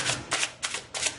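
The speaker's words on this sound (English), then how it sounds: "Let's give this a good shuffle" A deck of tarot cards is riffled in four quick bursts of crisp papery shuffling, close and fairly soft, with short pauses between them.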